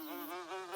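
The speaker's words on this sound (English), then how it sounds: "Liam, that's a Sparkton bee." A cartoon bee buzzes in a steady, nasal drone that wavers slightly in pitch, close and isolated for under a second.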